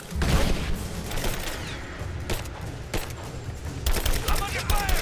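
Dense, continuous gunfire from the Rise of the Tomb Raider video game, with rapid overlapping shots, booms and sharp cracks filling the whole stretch at loud, steady intensity.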